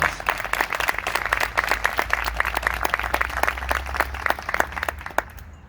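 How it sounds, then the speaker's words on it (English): A crowd at a heritage week awards ceremony claps for the award recipients, individual claps standing out as sharp distinct strikes in a loose patter that thins and fades away at the end. "Can we give them all one more big round of applause?"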